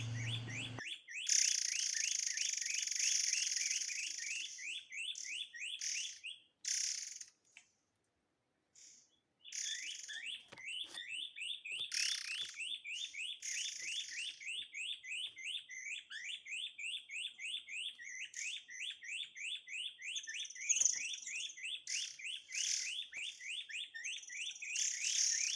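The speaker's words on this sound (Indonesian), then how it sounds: "burungnya udah mulai mendekat" Wild birds calling at night on a hill in South Solok, West Sumatra, persistent rapid high chirping trills repeating in long runs, loud and close, with a short silent gap partway.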